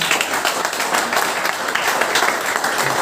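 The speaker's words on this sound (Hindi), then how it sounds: "एक बार ताली बनती है ना" An audience at a motivational business speech claps together, producing a dense, steady burst of applause that fills the full few seconds.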